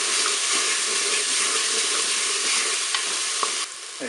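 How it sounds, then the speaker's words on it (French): Turkey escalope pieces and onions browning in a Cookeo multicooker, a steady loud broadband sizzle with occasional faint clicks of stirring, continuing alone throughout. "Je vais pouvoir faire revenir mes morceaux d'escalope de dinde. Je vais maintenant ajouter les oignons."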